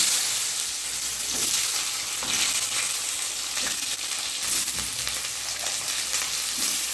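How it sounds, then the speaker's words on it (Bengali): Potatoes and mixed vegetables tipped into hot oil with fried panch phoron spices and chilli sizzle loudly and steadily, a dense close crackle with occasional stirring scrapes and no voices. "সবজিগুলো সব তেলের মধ্যে দিয়েছি"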